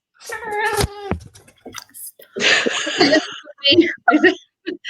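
A cat lets out a loud, drawn-out meow up close, followed by a person talking.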